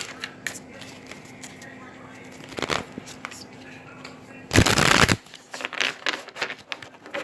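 Tarot cards riffle and flap in quick bursts, with a loud shuffle near the middle, over a faint room hum and soft clicks.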